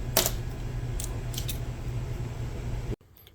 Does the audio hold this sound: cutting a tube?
yes